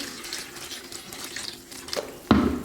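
Dahi bada fritters made from maash (urad) dal dipped into a bowl of water, with a faint trickling, watery background and a louder splash near the end.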